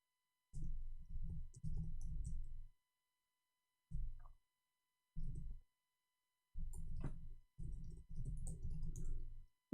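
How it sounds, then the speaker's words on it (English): Bursts of soft, rapid clicking from a computer keyboard come in uneven runs separated by silent pauses, close and fairly quiet. "Oops, I was typing for him in Arabic."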